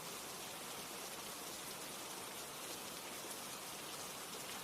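Steady rain falls continuously, a dense, even hiss of drops on surfaces that stays close and unbroken throughout with no voices.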